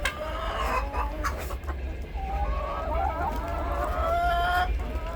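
Chickens of a new breed, swamp hens, cluck and chatter in a snowy backyard, with overlapping calls at close range over a low steady rumble.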